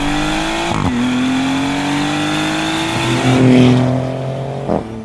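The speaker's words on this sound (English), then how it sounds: "the Maserati Gran Turismo," Maserati GranTurismo with a V6 engine revving: a rising engine note climbs, dips at a gear change, then climbs again with a brief louder surge, heard fairly close and without talk.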